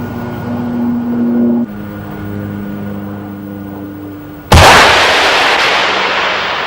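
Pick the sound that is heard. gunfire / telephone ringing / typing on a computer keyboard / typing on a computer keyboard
gunfire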